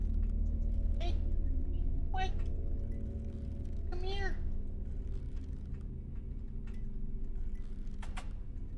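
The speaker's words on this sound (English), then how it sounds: "We'll see if I can coax the kitty over here real quick." A cat meows a few times in a game setting, with short rising and falling cries sounding over a constant low rumble in the background.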